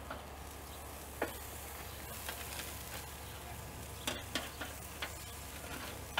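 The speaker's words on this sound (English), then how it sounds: "When they look like that, we're ready to give them a flip." Shrimp sizzling steadily on a grill at a low level, with a few sharp ticks and taps as the pieces are flipped, no voices present.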